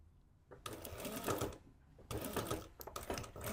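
A sewing machine backstitches a seam on a jacket in two steady bursts of rapid, close mechanical stitching separated by a short pause.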